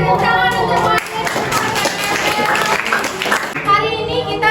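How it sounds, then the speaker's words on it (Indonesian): Children applaud together in a classroom during a lesson on ecosystem components, a dense, steady clatter of clapping mixed with young voices, filling the whole stretch at close range. "beri tepuk tangan untuk Martin."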